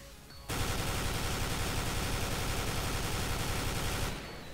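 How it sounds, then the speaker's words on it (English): Famas rifle sprayed in one continuous burst in a first-person shooter game, a dense, loud rattle of rapid shots running for about three and a half seconds before cutting off. "spraying down with the Famas is you want to make sure that you're holding your mouse down"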